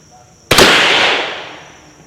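A Savage 93F rifle chambered in .22 WMR fires one sharp, loud shot close by, followed by a decaying ring of echo across open ground.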